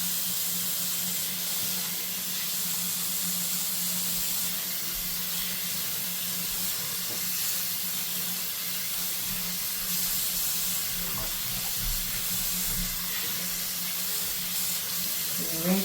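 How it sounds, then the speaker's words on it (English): Water runs steadily from a tap over hands being washed at a lab sink during nonsterile compounding preparation, a continuous hissing splash holding even and close throughout with no talk. "Then we put our hand under the water with our fingers pointing down."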